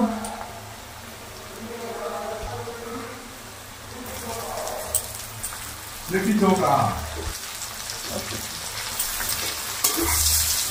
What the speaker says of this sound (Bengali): এবার আমি নারকেলটা ভেজে নেব।